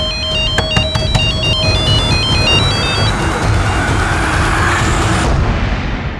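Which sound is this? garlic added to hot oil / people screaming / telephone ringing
telephone ringing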